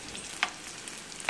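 Vegetable lumpia brown in hot oil in a pan with a steady close sizzle and a few sharper pops.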